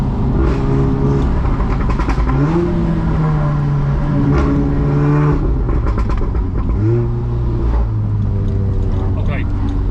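A 500 bhp Revo-tuned Volkswagen Golf R pulls hard in second gear, engine note rising steadily with turbo boost building, loud and close from inside the cabin, with a person talking over it throughout.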